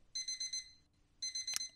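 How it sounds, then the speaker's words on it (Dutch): An alarm clock rings in a video game: two bursts of bright electronic beeping, the second ending on a sharp click, clear and alone. "De wekker gaat."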